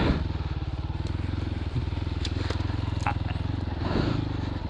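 A Christini all-wheel-drive 250cc dirt bike being ridden on single track, its engine droning with a steady, close, rapid thumping pulse and small rev changes, with occasional clatter and a voice talking over it.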